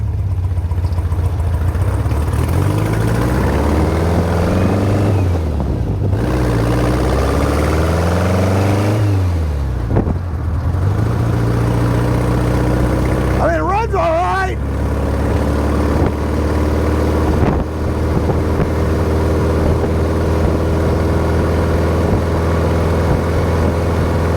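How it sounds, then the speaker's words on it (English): A VW-powered sand rail engine with dual carbs runs steadily and loud, a continuous mid-pitched drone with a couple of revs rising and falling partway through, heard alone without talk. "Engine runs all right."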